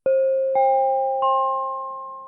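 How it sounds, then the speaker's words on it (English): Vancouver SkyTrain door chime: three clear, bright tones stepping upward one after another, each ringing on and slowly decaying, alone without talk. "the most iconic chime that we have on our transit system, the SkyTrain chime"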